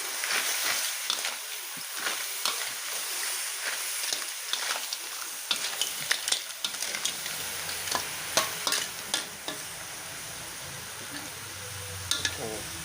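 Clams stir-fried in chili paste with basil leaves in a hot wok, continuous sizzling with repeated scraping and clattering stirs, close and busy, a low hum joining partway.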